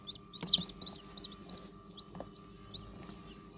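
Newly hatched chicks peeping inside an incubator with a fan running, a series of short high chirps repeating every half second or so over a low steady hum, fairly faint.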